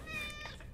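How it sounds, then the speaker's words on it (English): A domestic cat meows once, close by and fairly clear, in a room where a person plays video game music on a guitar controller during a live stream. "Oh, okay. That's my cat."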